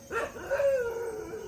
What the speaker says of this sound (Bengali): নতুন জায়গায় এসে কুকুরগুলো ঘেউ ঘেউ করছে।